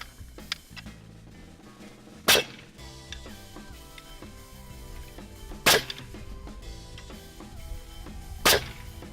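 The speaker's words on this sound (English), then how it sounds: "we're going to take our nail gun and secure it in place" A nail gun fires three sharp, loud shots a few seconds apart while securing the wooden frame of a chicken coop, heard close over quiet background noise.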